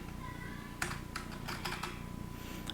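Key presses on a computer keyboard while working in a code editor, a few separate clicks and short bursts over steady background hiss with no voices.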